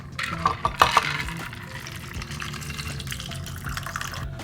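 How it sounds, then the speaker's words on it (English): Ice and ginger beer cocktail strained into a glass: a few sharp clinks of ice against glass near the start, then a soft, steady liquid pour that runs to the end. "add a splash of the supplied ginger beer and then strain it into my glass"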